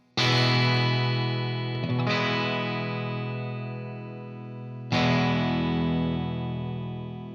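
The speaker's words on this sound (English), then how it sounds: "So this is a fairly clean Marshall amp." A Fender Stratocaster electric guitar through a fairly clean Marshall amp, channel 2 at about volume 4, strums ringing chords that slowly decay, with a second strum near two seconds and a fresh strong strum near five, no talk.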